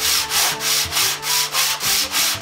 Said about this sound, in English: I'm going to go after it with this 80 grit sandpaper and get the major rust off